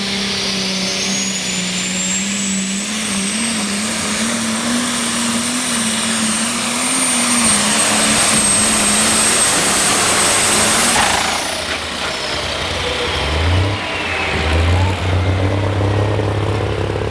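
A restricted-build pulling tractor, 6-shooter from Lothian, Maryland, roars down the track at a truck and tractor pull, a loud sustained engine drone with a rising whine that shifts pitch and fades into lower rumbling near the end.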